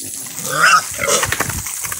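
A sow on a farm grunts and oinks close by in a short burst of rough snorts, with no talk over it.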